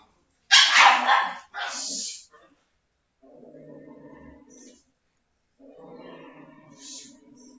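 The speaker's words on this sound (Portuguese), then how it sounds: "deixa eu ver se os cachorros param de se pegar" Dogs fighting, barking sharply in a couple of loud bursts, followed by quieter whining and growling sounds, nearby.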